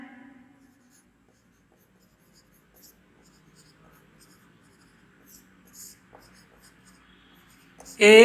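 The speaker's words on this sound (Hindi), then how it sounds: "तो इसको लिखते चलते हैं हम।" A pen writes notes during a Hindi-language child development class: faint, sparse scratching strokes in a quiet room, ending with a sudden louder sound at the close.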